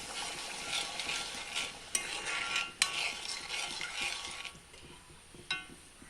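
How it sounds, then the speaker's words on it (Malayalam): Ladoo mixture is stirred with ghee in a pan: soft scraping strokes, a gentle sizzle and a few sharp clinks of the spoon against the metal, close and fairly quiet with no talk. "2 ടേബിൾ സ്പൂൺ നിറച്ച് നെയ്യ്, എന്നിട്ടൊന്ന് ഇളക്കി കൊടുക്കാം"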